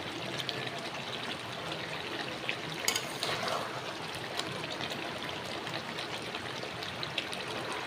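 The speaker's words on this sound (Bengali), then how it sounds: "এবার আমি জল দিয়ে দেবো।" Water pours steadily into a pan of desi chicken curry being cooked, a continuous soft trickling stream that stays fairly faint and even throughout.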